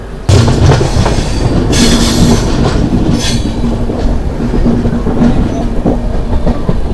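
Howrah–Indore Shipra Express pulling out of Dabhaura station, heard from on board: a steady, loud rumble of wheels and carriages with rhythmic clickety-clack over rail joints and a few brief higher screeches, continuous throughout with no talk.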